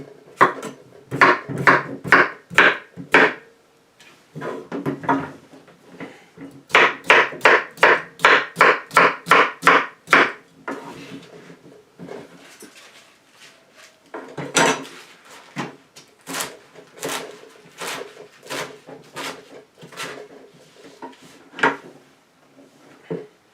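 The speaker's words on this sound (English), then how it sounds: "let's start chopping into 1-inch pieces" Produce being chopped into 1-inch pieces with a knife on a cutting board: rapid bursts of sharp, close taps in quick rhythmic runs, pausing briefly between runs, in a kitchen setting.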